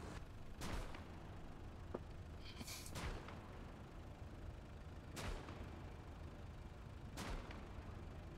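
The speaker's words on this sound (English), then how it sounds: "That's a lot of ricocheting." Bullets ricochet off a heavy tank's armor in the World War II game Gates of Hell: Ostfront, sharp pinging hits landing a few seconds apart over a steady low battlefield rumble.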